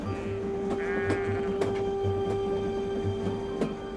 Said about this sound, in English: Sheep moving by the power of steam for the first time in at least a generation, John.